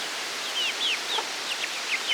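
Small fluffy light-coloured young chickens in a backyard setting give soft, high chirpy peeps and clucks, several short calls spread at an irregular rhythm, faint and close against a quiet background hiss.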